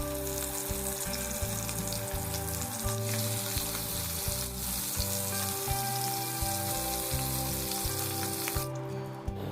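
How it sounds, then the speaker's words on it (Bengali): Ribbon fish pieces frying in oil in a kadai, a continuous loud sizzle and crackle with rhythmic low thumps as the pieces are turned, running steadily throughout with no voices. "এবার এই মাছটাকে উল্টে পাল্টে হালকা করে ফ্রাই করে নেব"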